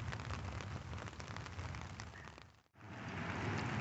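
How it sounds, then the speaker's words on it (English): Rain patters on an umbrella during an outdoor walk, a close, soft, continuous drumming of drops that briefly drops out near the end before resuming. "The rain is lightening up a bit now, which makes for a little bit softer of a sound."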